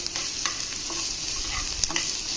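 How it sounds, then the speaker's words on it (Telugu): Curry leaves and chopped onion frying in a pan for an aloo paratha filling give a steady, close sizzle, with light stirring scrapes and a few sharper crackles. "పచ్చివాసన పోయే వరకు ఫ్రై చేసుకోవాలండి"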